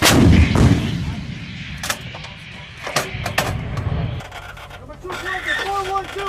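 Artillery guns fired by US and Philippine Marines during a Balikatan exercise: several loud booming reports and sharp blasts spread across the clip, with shouted commands and radio chatter between them.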